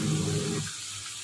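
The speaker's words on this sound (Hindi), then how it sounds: "उसके बाद उसे अच्छी तरह पानी से धो के निचोड़ लेती हूँ।" Bitter gourds being rinsed under a running kitchen tap, a steady splashing stream that stops abruptly after about half a second, leaving a quiet room.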